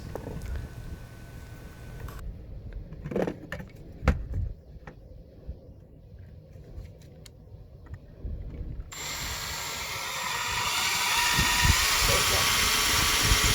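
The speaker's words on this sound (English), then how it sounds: "Let's drill some starter holes so the wood won't crack when I put in the screws." A power drill bores starter holes into wood beside a door strike plate, with short buzzing runs and a steady higher whine near the end, while a voice talks nearby.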